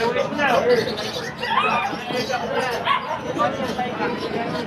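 Several puppies and dogs for sale at a pet market, including Pomeranian, Pekingese, German Shepherd and Belgian, yip and bark repeatedly nearby amid crowd babble and people talking.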